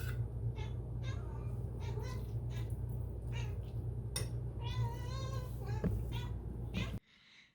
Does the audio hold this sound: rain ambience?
no